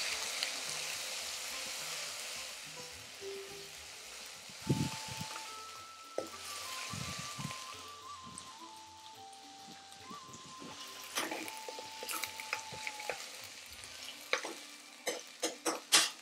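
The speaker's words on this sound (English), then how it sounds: "We want to fry that out to get all that rawness out for around 20 to 30 seconds." Garlic and ginger paste fries in a pan for an Indian restaurant-style dish, a steady close sizzle with stirring scrapes, clinks and tonal squeaks from utensils, occasional sharper ticks toward the end, no talking.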